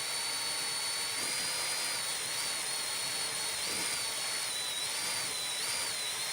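A DeWalt power drill spins steadily to mix diluted glass colour, giving a continuous whine whose pitch wavers slightly as the load shifts, close and unbroken, with no voices.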